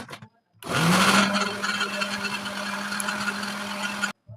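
An electric hand mixer whirs steadily at close range as it beats a homemade luncheon meat mixture, starting abruptly, running as a sustained buzzing drone for several seconds, then cutting off.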